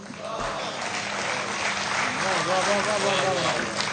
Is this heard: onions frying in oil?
no